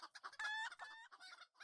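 Chickens cluck and a rooster crows in the Lord of the Rings Online game, a short, close, busy burst of bird calls standing alone with no talk.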